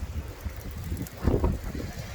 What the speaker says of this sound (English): Everything's windy, rainy, nasty weather today.